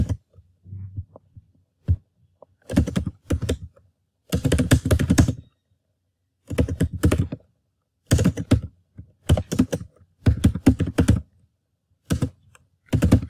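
Someone types on a computer keyboard in bursts of rapid keystrokes separated by short pauses, close and clear in a quiet room.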